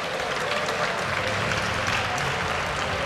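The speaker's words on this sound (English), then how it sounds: "Give them a cheer." A large arena crowd at a Dreamhack EU LCS Summer 2013 League of Legends match cheers and applauds in a steady, dense roar that fills the whole stretch without a break.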